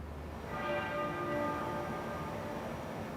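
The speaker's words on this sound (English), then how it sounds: "The sound of the Abbey's muffled bell." The muffled bell of Westminster Abbey tolls once during a royal funeral, a soft, damped metallic strike that hums and fades slowly over a low, steady background.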